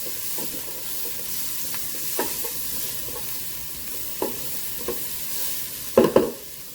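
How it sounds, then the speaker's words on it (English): Onions fry with a steady sizzle in a Ninja Speedi while a utensil stirs them, scraping the pot in several short, distinct strokes over the constant hiss. "I'm going to go ahead and get just a little bit of color on those onions"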